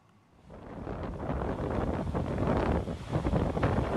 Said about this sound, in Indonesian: Dari video amatir terlihat hujan deras dan angin kencang melanda kampus IAIN Ponorogo pada Jumat sore